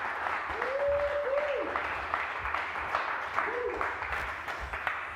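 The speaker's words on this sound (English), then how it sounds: "So it's actually just me waiting for more applause" A studio audience claps and cheers in a late-night cocktail show setting, a dense patter of applause running throughout, with a few bright whoops rising above the crowd.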